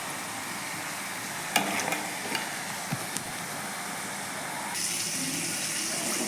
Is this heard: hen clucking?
no